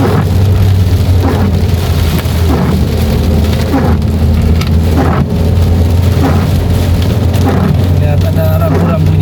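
Rain drums steadily on a car while it drives along a forest road, loud and constant, with low engine rumble beneath and a voice talking over it.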